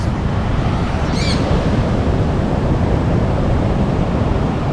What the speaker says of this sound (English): And look at those waves.